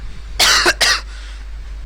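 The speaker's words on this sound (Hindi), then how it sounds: "खांसी के लिए सॉरी।" Two quick, harsh coughs close to the microphone, followed by the start of a third after a short pause.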